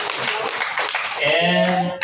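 Wedding guests clapping to welcome the bride at a ceremony in Tuba, Benguet, a short burst of scattered applause under a voice speaking.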